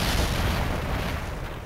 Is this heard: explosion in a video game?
yes